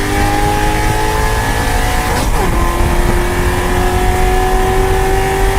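A car engine roars loudly and steadily, its pitch climbing toward a high-rev gear shift at 7,500 RPM, then dropping and rising again after the change, with no other sounds competing.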